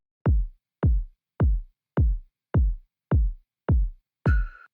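A filtered kick drum in a pop track thumps four on the floor, eight evenly spaced, dry, booming hits in a steady pulse, the last one joined by a brief tonal swell.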